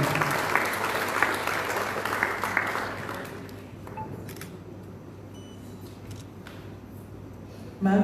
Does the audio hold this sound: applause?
yes